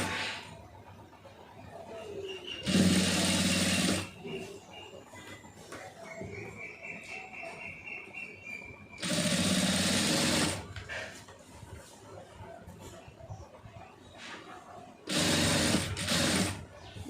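Sewing machine stitching piping onto a lining blouse, running in three loud bursts of a few seconds each, separated by quieter handling noise.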